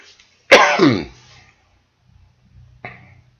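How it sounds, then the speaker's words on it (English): A single sharp, harsh cough up close, followed by a brief throat-clearing rasp and a smaller cough moments later. "Excuse me very much for the cough"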